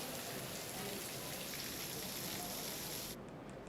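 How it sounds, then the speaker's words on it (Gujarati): Rain falls steadily during a thunderstorm in rural Modasa, Aravalli district, Gujarat, a dense, even hiss of drops on surfaces that stays constant throughout. "મોડાસા ગ્રામ્યમાં ગાજવીજ સાથે વરસાદ"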